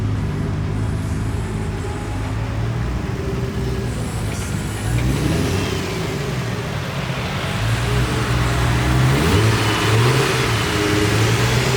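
An 800 hp Nissan R35 GT-R revs on two-step launch control, a sustained loud engine drone with rising and falling pitch, heard nearby and outdoors with no talking.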